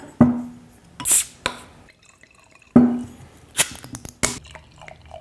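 Bottles of The Bruery Rue D'Floyd beer, 2014 and 2017 vintages, being opened and poured into snifter glasses, with two sharp pops or cap releases followed by clinks and glugging pours, close and clear, no talking.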